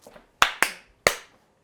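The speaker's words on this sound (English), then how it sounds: "The old 1-2 clap." Three sharp, close hand claps ring out alone, the first two in quick succession and the third after a short pause, preceded by a softer tap.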